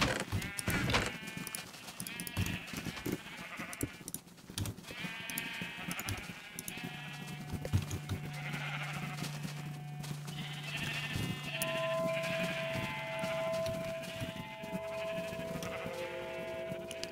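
Repeated Minecraft sheep bleats over a busy, layered game soundscape, with a steady low drone and a sustained tone joining partway through.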